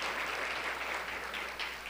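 Sustained applause from an audience honouring students and educators at a human rights and business event, dense steady clapping throughout, fairly close and even in loudness.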